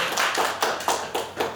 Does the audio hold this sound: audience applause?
yes